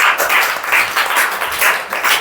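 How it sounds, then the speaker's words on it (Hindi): A group playing a quiz game modelled on a TV quiz show bursts into loud, dense applause, many hands clapping together in a continuous pulsing wave. "ताली हो जाए जोरदार से"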